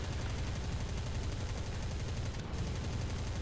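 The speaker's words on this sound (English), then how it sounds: "Then I use the machine gun to hose down whatever I'm shooting at and hope that I set a fire" Rapid, continuous .50 caliber machine gun fire from a fighter plane in the War Thunder air combat game, a dense, unbroken rattle of shots layered over a steady engine roar for the whole stretch.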